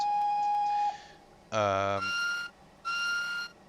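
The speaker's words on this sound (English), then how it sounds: "The B whistle sounds like a higher pitched version of that." Whistle of a Victory Works J21 steam locomotive in Train Simulator 2019: a steady lower whistle tone, then a louder shrill chord-like blast and two more higher-pitched whistle blasts, each short and separated by brief pauses.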